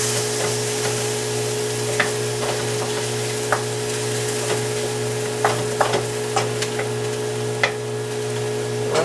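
Lean pork tenderloin frying in a pan, a constant close sizzle with scattered sharp pops and occasional utensil taps, no one talking.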